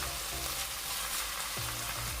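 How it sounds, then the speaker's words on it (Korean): Minced garlic and shishito peppers stir-fry in a tablespoon of cooking oil in a preheated pan, giving a steady, close sizzle with faint low tones in the background. "마늘향이 올라오면 꽈리고추를 넣고 같이 볶아주세요"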